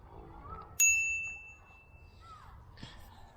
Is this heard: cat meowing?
no